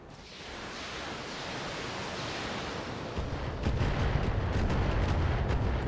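Heavy mech weapons fire in the video game BattleTech, a dense roaring barrage of blasts and rumbling impacts that builds in loudness, with sharp repeated shots cracking through in the later part.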